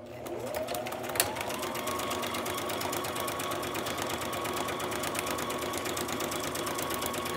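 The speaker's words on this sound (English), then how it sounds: "You really don't have to do all this sewing." A sewing machine stitches steadily around a paper envelope, giving a continuous fast mechanical whir with an even rapid needle rhythm, close and moderately quiet, with no talk.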